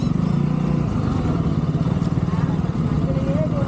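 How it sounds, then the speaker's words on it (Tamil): Busy road traffic near a temple town, with motorcycle engines humming and passing close by in a continuous low drone. "டிராஃபிக்காக இருக்குது."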